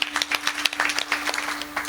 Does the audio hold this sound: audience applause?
yes